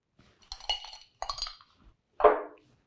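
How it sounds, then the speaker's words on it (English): Ice cube dropped into a glass for a whiskey drink, giving a few bright clinks and rattles as the cube settles, followed by one louder, sharper knock near the end, close and otherwise quiet. "take an ice cube."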